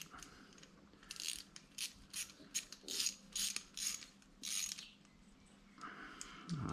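Ratchet socket wrench clicking in short bursts while fitting a heater/defrost unit on a 1951 Chevy Custom, several quick ratcheting runs up close with pauses between, no talk.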